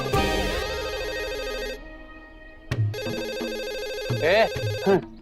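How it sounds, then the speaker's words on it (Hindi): An electronic telephone ringtone trills in repeated bursts, loud and close, with a brief pause between rings and some background sound. "फोन उठाओ ना।"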